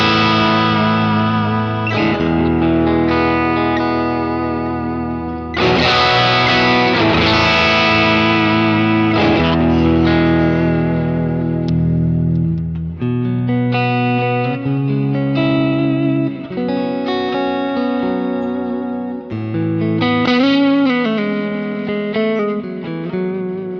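Electric guitar played through an amp modeler with the rear compressor switched off, a loud, sustained distorted tone with chords and riffs running continuously and alone, no talking.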